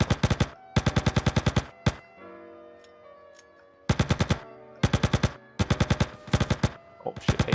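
Bursts of AK assault rifle fire in the GTA South Hoods mod, several rapid automatic volleys with short gaps between them, loud and close, with a quieter stretch of background game sound in the middle.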